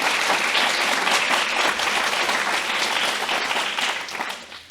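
A crowd claps steadily and fairly loudly at a painting competition award ceremony, the applause holding for several seconds before starting to taper off.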